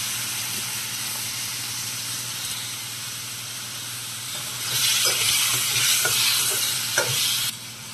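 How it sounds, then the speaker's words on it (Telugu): Garlic, tomato and green chili fry in a pan for a ladies finger pickle, a steady sizzle that swells louder and brighter midway with a few clinks of stirring, no talking. "వెల్లుల్లి కొంచెం ఫ్రై అయ్యాక టమాటా వేసుకుందామండి"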